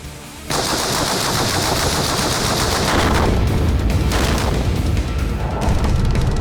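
Gunfire at an explosive gas-filled target on a firing range: a dense, continuous rattle of rapid shots with booming bursts, loud and close, no speech.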